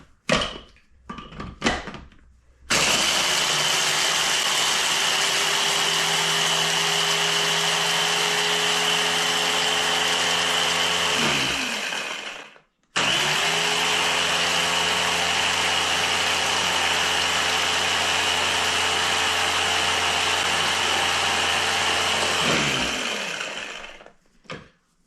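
Electric spice grinder pulverizing dried ancho chillies and dried oregano into powder, a loud steady whirring motor run of about ten seconds, a brief stop, then a second equally long burst, with no talking over it.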